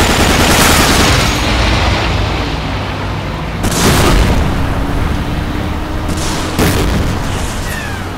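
Strafing-run gunfire and booming explosions in the PC game Medal of Honor Allied Assault, a dense, loud continuous battle roar with sharp blasts near the four- and six-and-a-half-second marks, no talking.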